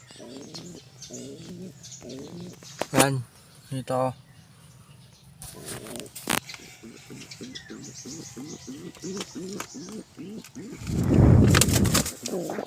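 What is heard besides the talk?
pigeons cooing in loft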